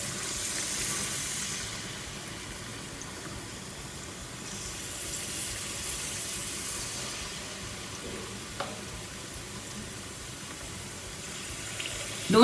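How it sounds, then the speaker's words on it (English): Spoonfuls of banana fritter batter frying in hot oil in a pan give a steady, moderately loud sizzle with faint clinks of a utensil now and then. "So we begin by pouring spoonfuls of batter into the hot oil."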